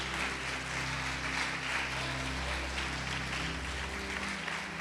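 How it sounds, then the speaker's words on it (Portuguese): Dense applause from a large church congregation, continuous and even over a low musical hum, loud and unbroken throughout. "Pode aplaudir o Senhor Jesus e glorificá-lo."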